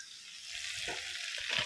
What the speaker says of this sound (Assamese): এতিয়া আলুটো দি আৰু অলপ সময় ভাজিম